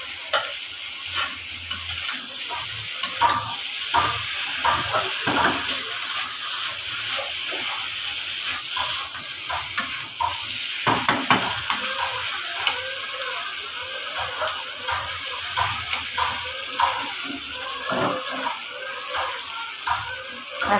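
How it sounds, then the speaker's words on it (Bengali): Pumpkin cooking in a pan on a home stove while rice boils nearby, giving a steady fizzing sizzle with repeated clicking and scraping stir noises throughout, no talking. "প্রথমে আমি কুমড়োটা চাপিয়েছি আর এদিকে ভাতটা হচ্ছে"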